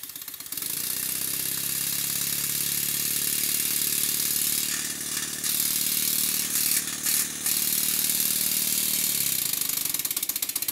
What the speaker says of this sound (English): Time now to test the engine and see if it works.